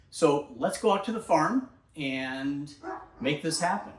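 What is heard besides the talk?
dog barking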